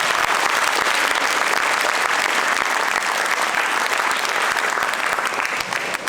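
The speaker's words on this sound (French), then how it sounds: "On peut également les applaudir." Loud, dense audience applause at the Chorasies 2023 choral concert: a continuous roar of many hands clapping that stays full and steady throughout, heard close and without speech.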